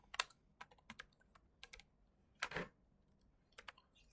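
Quiet bursts of keystrokes on a computer keyboard while entering Python code, scattered clicks in short clusters with a brief louder clatter midway and pauses between, no voice.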